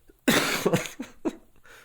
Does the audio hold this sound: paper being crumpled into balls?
no